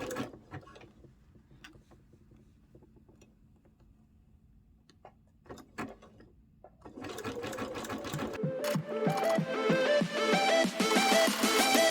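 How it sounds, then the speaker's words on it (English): Sewing machine stitching bathing suit fabric while a bra cup is being reduced. Soft handling clicks come first, then a steady, close, rapid stitching run that grows louder toward the end. "Adjust the fabric, you don't want any fabric messed up, and again start stitching."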